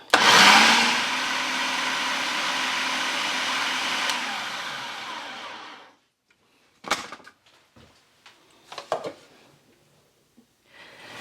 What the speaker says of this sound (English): We're going to just sprinkle that in the food processor. Turn it on.